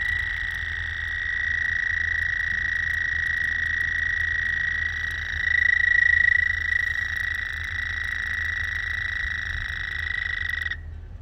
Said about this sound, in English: this is officially the first toads that we've had in the pond in 2020.